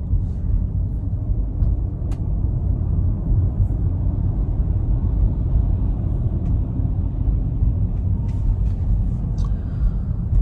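A Tesla car driving on autopilot in slow interstate traffic, heard from inside as a steady, unbroken low road rumble and tire drone with a few faint clicks.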